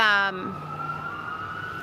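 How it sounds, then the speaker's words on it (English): A wailing siren tone glides downward and settles into a steady high whine, with a low rumble underneath. "Here comes some sirens."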